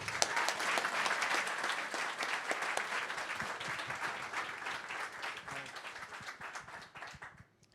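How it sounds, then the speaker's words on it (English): An audience applauds at the official opening of a tribute museum, a broad sustained round of clapping from a crowd at a steady level that tapers off and stops at the very end. "Congratulations, everybody. Round of applause"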